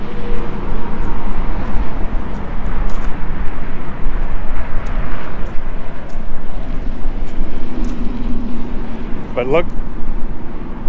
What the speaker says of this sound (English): you can really hear the roar of the traffic